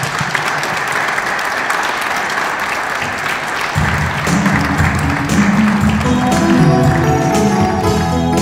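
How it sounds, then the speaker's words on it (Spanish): Loud, sustained congregational applause fills a church at the close of a quinceañera Mass, dense steady clapping that carries through to the end, with organ or music tones entering partway through. "le damos un aplauso de felicitación"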